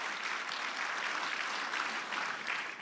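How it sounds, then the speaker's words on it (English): Sustained audience applause at a South Bay council of governments assembly, steady dense clapping from a crowd throughout, moderately loud and even with no talking over it. "let's give her a great big round of applause"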